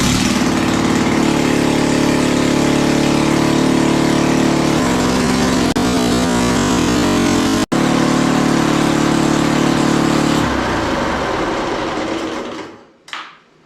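Toro Power Clear 518 ZE snowblower engine running loud and close with a steady buzzing drone, briefly changing pitch partway through, then shutting off and winding down near the end.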